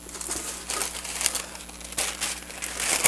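A sheet of paper is handled and crinkled close by during junk mail envelope journal crafting, giving continuous rustling with several louder crackling bursts and no talk.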